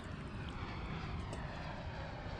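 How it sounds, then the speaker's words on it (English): A propeller airplane passes overhead on approach to Bromma Airport in central Stockholm, a steady, faint engine drone heard alone over a beach. "Oh, another plane"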